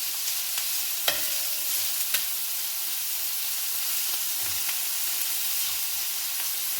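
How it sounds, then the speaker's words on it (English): Soft, steady sizzling of onions and peppers frying in a pan, with a few sharp metal clinks from a metal spoon stirring against it. "let the onions and peppers fry here for a bit until it softens up"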